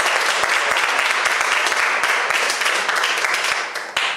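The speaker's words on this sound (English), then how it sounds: "let's give another round of applause to both presenters" Dense, sustained clapping from a large crowd at an awards ceremony, loud and steady throughout, tapering slightly at the very end.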